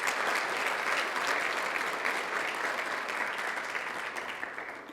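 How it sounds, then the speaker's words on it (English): An audience applauds at a high school college signing ceremony, steady sustained clapping from a room full of people that fades slightly toward the end. "let's give her a round of applause again"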